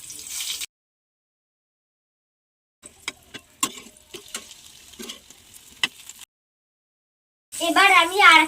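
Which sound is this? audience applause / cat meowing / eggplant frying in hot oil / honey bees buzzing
eggplant frying in hot oil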